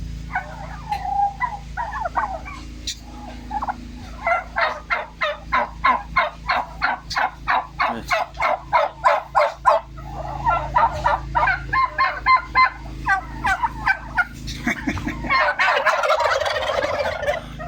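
A flock of farm-raised turkeys gobbling in a rapid, repeated burst of loud, rattling calls, close by, with more scattered gobbles and clucks before and after.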